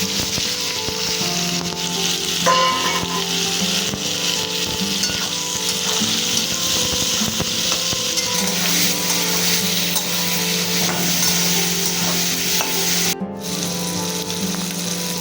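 Sliced onions fry in hot oil tempered with cumin seeds and bay leaf, a loud continuous sizzle with faint stirring and a low background hum, uninterrupted for the whole stretch.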